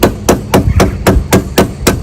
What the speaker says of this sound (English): the reason I use a rubber mallet is, one, it's lightweight to use